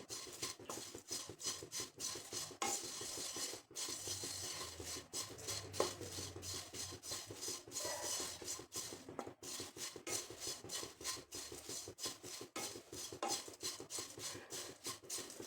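Continuous dry scraping and rustling as a utensil stirs and tosses thin poha flakes roasting in a pan until crisp, steady and close with faint metallic clinks, no talking.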